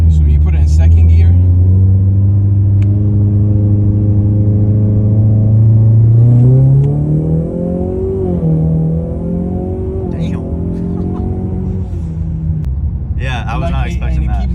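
A Ford Explorer ST with a built EcoBoost engine and Borla Atak exhaust pulls hard in second gear. Its loud, droning engine note climbs steadily, then settles into a lower hum as voices talk over it.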